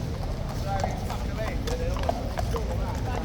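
Horse hooves clip-clop in a steady rhythm under a constant wash of background noise, sharp hits landing close together at a moderate distance.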